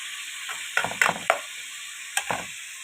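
Chicken liver and gizzards frying with spices and tomatoes, with a steady faint sizzle under a few sharp spoon clinks and scraping stirs against the pan in short clusters.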